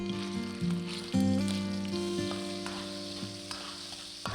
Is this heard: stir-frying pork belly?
yes